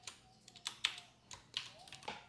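Keys tapped on a computer keyboard while entering text into a spreadsheet cell, about eight distinct clicks in an uneven rhythm, close and fairly quiet, with no speech.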